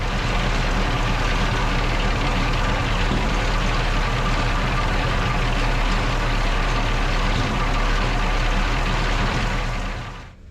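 A Maybach HL230 Panther tank engine idles steadily during carburettor tuning, a loud, even low rumble that holds for about ten seconds before easing off at the end.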